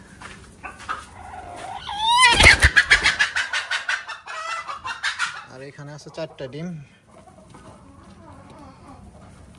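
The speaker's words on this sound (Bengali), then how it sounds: "এখানে মুরগিটা বসে আছে।" A broody desi hen sitting on eggs on a farm clucks and squawks loudly up close in a rapid agitated burst, then quieter clucks continue under a man's brief speech.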